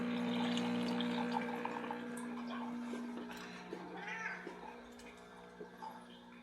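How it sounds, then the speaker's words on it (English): A cat meows and yowls repeatedly over a steady background hum, with faint drips and small household sounds. No one speaks. "cat won't shut up."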